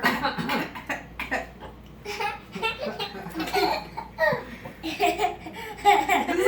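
Several people, including a child imitating the sound, cough in scattered bursts mixed with giggles and laughter, close and lively throughout.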